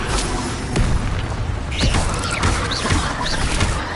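Leviosa levitation spell cast in Hogwarts Legacy, a burst of magical whooshing and rising chimes over dense combat noise, booms and clatter, steady and loud throughout.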